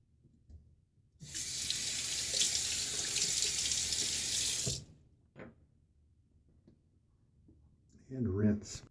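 A bathroom tap gushes loudly for about three and a half seconds as a Wolfman Guerilla safety razor with a Gillette Nacet blade is rinsed, then small clicks and taps follow before someone briefly speaks.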